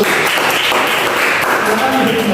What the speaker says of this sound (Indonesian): tepuk tangan untuk Bapak Satu